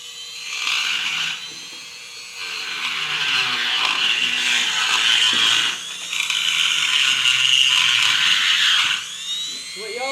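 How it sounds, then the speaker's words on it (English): A drag roller tool grinds and whirs inside a hole in a John Deere log skidder center pin part, a close, loud rotary buzz that surges and eases in passes with brief pauses between. "I'm going to get in here with my drag roller and work this thing over a bit"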